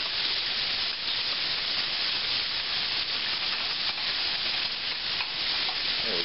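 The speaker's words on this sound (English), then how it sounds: "Now, our butter's starting to bubble a little bit. Put the flour in there. And take a whisk." A whisk works flour into bubbling butter in a pan, giving a dense, even sizzle with a continuous scraping stir, close and steady throughout.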